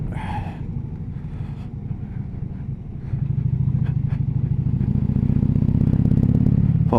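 A Harley Davidson Electra Glide motorcycle rolls over gravel, its steady low engine rumble rising louder partway through with crunchy, clattering texture from the loose surface, no talk.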